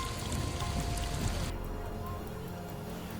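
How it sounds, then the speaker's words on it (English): Heavy rain pours across Chicago, Illinois, swamping city streets and tunnels: a dense, steady hiss of water spread across the whole clip, with the brighter spatter thinning out halfway through while a low rumble carries on. "Chicago, Illinois was battered by heavy rain that swamped streets and city tunnels"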